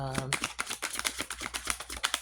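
Tarot cards are riffle-shuffled up close in a rapid series of crisp flicking clicks, following a brief moment of speech.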